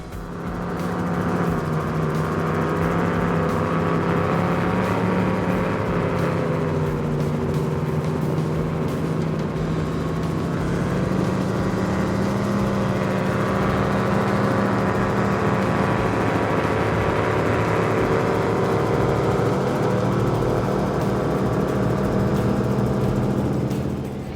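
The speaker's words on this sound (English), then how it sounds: "Let's listen in, because this boat is a beast." The engines of a 50-foot Nortec Supercat powerboat at a Key West poker run give a loud, continuous droning roar. The pitch rises and falls steadily for over twenty seconds, with no talk.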